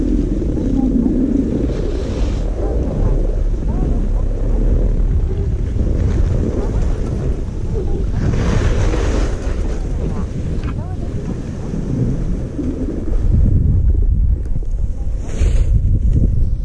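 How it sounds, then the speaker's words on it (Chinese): Strong wind buffets the microphone on a ski slope at a snowy hot-spring ski area, a loud, low, gusting roar that runs continuously, with brief faint voices now and then. "你那里风很大吧？"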